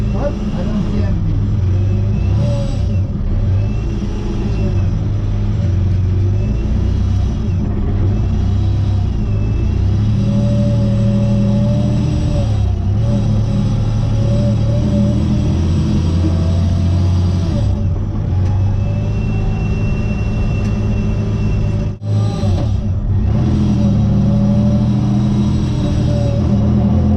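A Mazda RX8 fitted with a straight-six engine drones steadily as it drives out onto a damp Donington race track in the morning, with someone talking over the engine noise.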